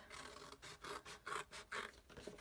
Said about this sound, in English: snipping along this line all the way up